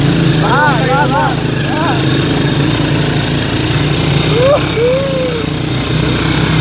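A motorcycle engine on a steep uphill climb at an informal race runs loud and close in a steady drone, while people shout and call out over it.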